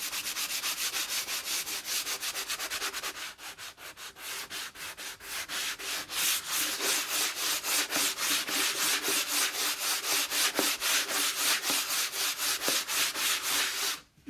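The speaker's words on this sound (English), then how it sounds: "I'm just sanding right over this chalk paste." Hand sanding over chalk paste on a wooden surface, rapid rhythmic back-and-forth scratchy strokes, close and steady, speeding into a brisk regular rhythm partway through, with no talking.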